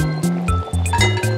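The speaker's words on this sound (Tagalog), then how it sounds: "Magpakulo ng tubig." Water pours into a pot to be boiled for pansit noodles, a close, loud stream with gurgling that shifts in pitch in short steps as the vessel fills.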